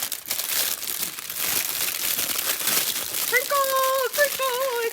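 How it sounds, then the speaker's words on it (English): Plastic wrapping on a diamond painting kit crinkles steadily as it is unwrapped, close and continuous, with a brief sung voice near the end. "Sorry for all the crinkling."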